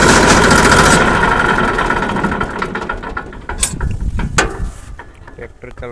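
An old tractor engine runs close by with a loud, rough mechanical drone and rattling, clanking parts. It is heaviest at the start and then turns more uneven, with no clear speech.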